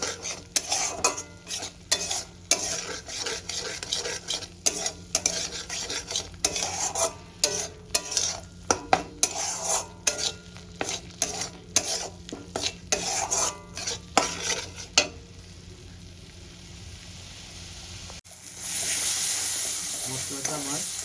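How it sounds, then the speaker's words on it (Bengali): Spice paste for a fish curry with potato sautés in a pan, with rapid repeated scraping and clanking of a utensil over a constant sizzle, close and fairly loud, then a brief louder hiss near the end. "মশলাগুলো দিয়ে আমি এবার কষাতে থাকবো।"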